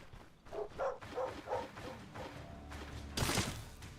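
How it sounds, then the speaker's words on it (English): Wild dogs bark in the video game Stoneshard, a run of quick, quiet yips and barks in a steady rhythm, followed by a louder thudding hit, with no talking over them. "I see some wild dogs."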